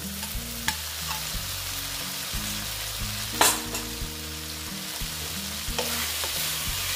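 Soybeans stir-fry in a pan with a steady sizzle, while a spatula scrapes and clatters in rhythm and a loud hiss flares midway.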